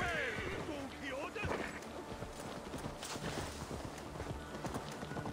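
Horse hooves clatter in a rapid galloping rhythm in Assassin's Creed Valhalla, steady and moderately loud amid dense game ambience and effects, with no talking.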